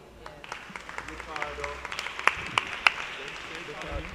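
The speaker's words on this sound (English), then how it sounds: "Clap them." Scattered audience clapping at a reggae conference session for standing student coders, light and uneven with a few sharp claps standing out, under voices in the room.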